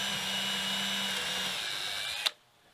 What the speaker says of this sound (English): I always start straight in just to get an anchor point, so my drill bit doesn't slide up the post as I'm trying to start it.